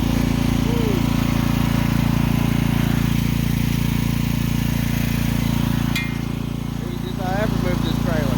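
The diesel engine of a mini excavator fitted with a hitch runs at a steady loud drone while it moves a trailer, with a few metallic clinks near the end.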